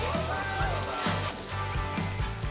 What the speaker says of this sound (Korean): 이 지글지글 소리는 언제 들어도 참 좋은 것 같네요.